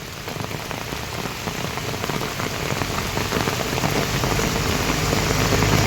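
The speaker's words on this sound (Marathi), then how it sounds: "हे बघा इकडे पण पाऊस असा पडतोय केवढा जोरात." Heavy monsoon rain pours steadily in Khed, Ratnagiri, near a police station, a dense, continuous hiss of drops on surfaces that holds loud and unbroken throughout, with no voices.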